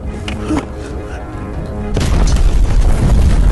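A grenade blast in a film about Korea resisting Japanese rule erupts partway through as a loud, close boom. A broad roar follows it, and a voice is heard before it.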